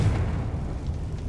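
A Confringo blasting spell exploding in Hogwarts Legacy, a short muffled low boom that rumbles and fades over about a second.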